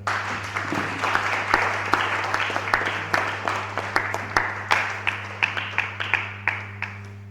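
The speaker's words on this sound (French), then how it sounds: "Acclame Jésus pour toi-même" A church congregation claps in a steady, rhythmic beat, an even run of sharp hand claps over a low constant hum, moderately loud and continuing throughout.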